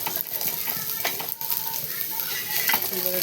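Okra frying on a full tawa for masala bhindi, a soft continuous sizzle with intermittent scraping and stirring clicks from a spatula, fairly quiet and without talk.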